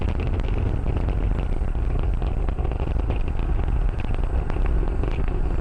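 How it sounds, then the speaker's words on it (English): The Merlin engines of a SpaceX Falcon 9 rocket, throttled down during ascent toward max Q, make a loud, steady, broadband roar with dense rumbling texture and no pauses. "The first stage is throttle down power on the Merlin engines in preparation for max Q."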